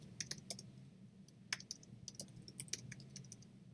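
A name is typed on a computer keyboard in short, irregular bursts of crisp key clicks, quiet and close, with no talking.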